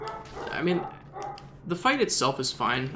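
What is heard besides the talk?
dog barking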